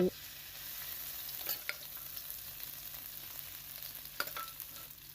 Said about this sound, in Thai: ผัดพริกแกงให้ส่งกลิ่นหอม